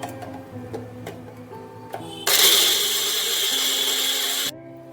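A mixer grinder jar grinds spices for egg korma, starting with a sudden loud whirring roar after some clicks and clatter, running steadily for about two seconds, then stopping sharply.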